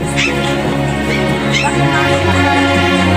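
A dog whimpers and yips a few times amid steady background noise and a low hum, fairly close.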